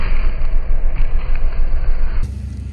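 Steady, loud engine rumble of a gas-powered portable generator running during a storm power outage, continuous broadband drone close by, then a sudden change in tone near the end; no talking.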